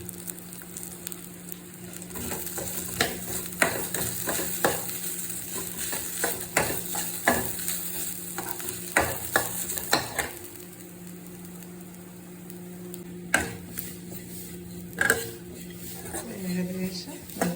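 Coconut, tamarind, pepper and shallots dry-roasting in coconut oil for a fish curry, with a steady low sizzle broken by repeated scraping stir strokes and clinks against the pan.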